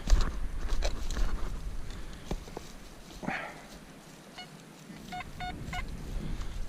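A metal detector sounds a few short electronic signal tones in a field while searching for finds, brief beeps near the end over rustling handling noise and outdoor ambience, no talking.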